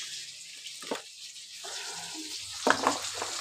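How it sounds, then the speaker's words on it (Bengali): Cumin seeds temper in hot oil for a tomato-paste egg curry, giving a faint sizzle with brief louder crackles and stirring scrapes. "একটুখানি জিরে ফোড়ন দেব।"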